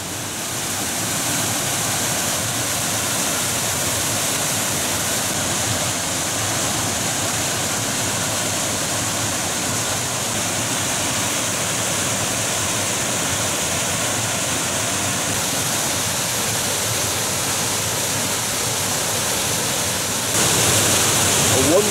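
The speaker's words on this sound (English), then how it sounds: "I can stand here and watch that waterfall all day." Low Force waterfall on the River Tees in Teesdale, North Pennines, pours in a steady, loud broadband rush that holds unbroken throughout, with no voices over it.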